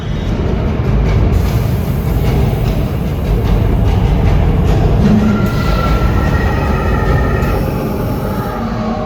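A tram on the Universal Studios Hollywood backlot tour, heading into the King Kong 360 3D attraction, rumbles steadily along its rails, loud and enclosed, with faint wheel squeals and rattles and no talking.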